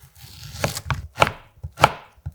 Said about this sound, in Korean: 대파를 적당히 준비해서 송송 썰어